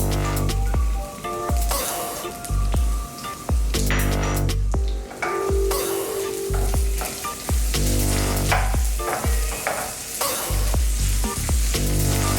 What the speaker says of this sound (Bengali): তারপর বাদাম গুঁড়ি আমি ভেজে নিব।